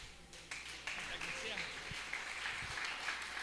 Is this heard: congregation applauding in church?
yes